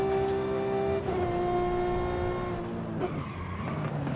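A Porsche S1-class build in Forza Horizon 5 revs high and smooth, its engine holding a steady climbing tone before dipping and surging again near the end, loud and continuous with no talking.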